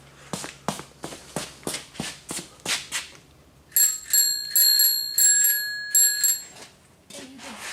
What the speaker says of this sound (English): I put a bell on it.